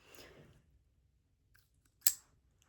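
Scissors snip crochet yarn once, a single short, crisp cut near the microphone after a brief soft rustle, otherwise quiet.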